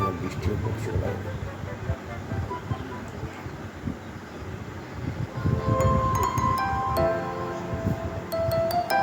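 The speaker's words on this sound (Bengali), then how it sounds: "ট্রেনটা চলে যাচ্ছে।" An express train rolls past at Bandel station on a rainy day, a close, continuous rumble of wheels and carriages with rising metallic squeals and tones in the second half.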